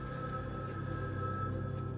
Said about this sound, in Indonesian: mereka pun mendengar lagi suara dering telepon masuk.